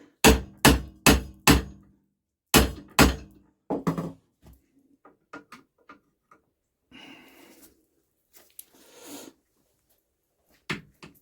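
A hammer banging on a stuck tractor freewheeling hub: a rapid run of loud metallic blows, a pause, then two more, followed by lighter scattered taps and scraping at close range.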